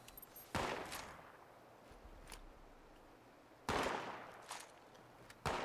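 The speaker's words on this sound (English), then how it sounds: "What's a bunch of scorch shooting?" Scorched enemies fire guns in Fallout 76. Two sharp, loud bursts of gunfire ring out a few seconds apart, each followed by a short decaying tail, with quieter scattered shots in between.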